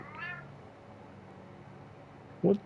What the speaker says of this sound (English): What's got you meowing like that?